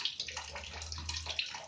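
Water streams from a household tap after an electric geyser repair, a close, hissy rushing flow with slight gurgling fluctuations.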